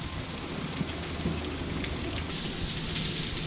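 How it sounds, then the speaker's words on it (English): Steady rain falling on a warm tropical day on Kwajalein Atoll, a dense continuous hiss of drops on surfaces, close and even throughout with no talking. "Another warm, rainy day in tropical paradise."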